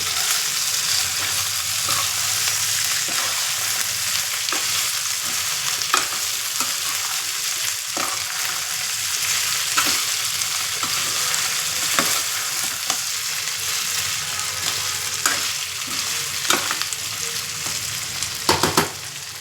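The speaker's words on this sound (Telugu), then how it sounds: "ఇప్పుడు ఈ బాయిల్ చేసిన చికెన్ ఇందులో వేసేస్తున్నాను. ఇవి వేసేసుకుని చక్కగా కలుపుకోవాలి." Boiled country chicken being stirred into a village-style natukodi curry frying in a pan, a loud steady sizzle running throughout with repeated scraping clinks of the spoon against the pan.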